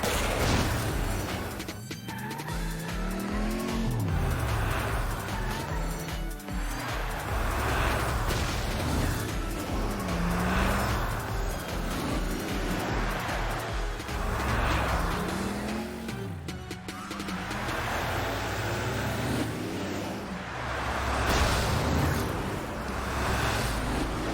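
Cars race around a track, engines revving up and down in repeated swells with tire squeal and skidding, loud and continuous throughout.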